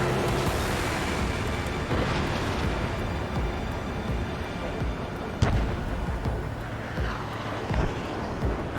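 Incoming missiles explode around a fighter jet in Ace Combat 7, with dull booms over a constant heavy roar of engines and combat that runs through the clip, plus one sharper blast near the middle.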